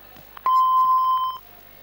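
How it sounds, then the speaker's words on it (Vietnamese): A single clean electronic voicemail beep sounds on a phone line, a steady mid-pitched tone lasting just under a second before cutting off into quiet line noise. "Sau khi nghe một tiếng bíp, xin cảm ơn."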